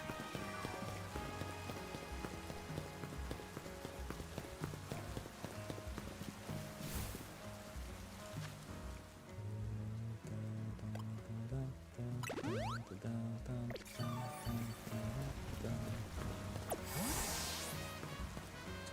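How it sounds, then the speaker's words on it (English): Steady rain falling in Pokemon Legends Z-A, a continuous pattering hiss mixed with game music and effects, moderately loud with no talk. "Raining."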